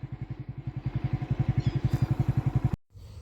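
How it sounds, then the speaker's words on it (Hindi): A motorcycle ridden around open village fields on a cold day gives a close, rapid, evenly pulsing engine thump that rises slightly in strength before cutting off abruptly near the end, with no talking. "पूरे चक में मोटरसाइकिल घुमाते हैं"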